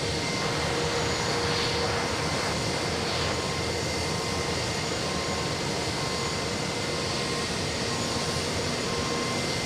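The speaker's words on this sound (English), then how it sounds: "We got a big 777 coming in. We have Turkish 3 flying in from Istanbul." A Turkish Airlines Boeing 777 arriving from Istanbul and landing at JFK, its jet engines producing a steady, loud, broad roar that holds constant throughout with no talking.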